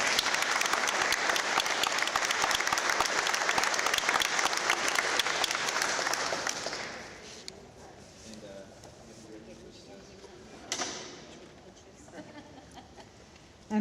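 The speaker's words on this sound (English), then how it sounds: "Let's give Angie and the team here a big round of applause." A crowd at a Halifax fishing club event breaks into loud, sustained applause that fades after about seven seconds into quieter room murmur with a few scattered claps.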